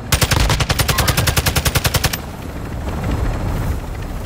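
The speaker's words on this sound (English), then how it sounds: "You are taking effective fire." Rapid automatic gunfire in the video game Call of Duty: Modern Warfare II, a fast even burst of about twenty loud shots lasting two seconds, then a rumbling background with no more shots, no talking.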